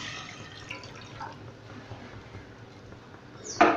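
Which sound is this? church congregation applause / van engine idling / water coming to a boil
water coming to a boil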